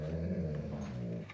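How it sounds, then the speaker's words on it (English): A dog growls low and steady indoors beside a mouse trap kit being glued together, a close, continuous rumbling grumble lasting the whole moment with no talking. "my dog's kind of growling too"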